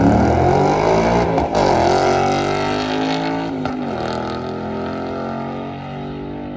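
Nissan GTR making about 750 wheel horsepower on a drag racing run, heard from inside the car: a loud, roaring engine climbing through gears with brief shift dips, then easing off toward the end.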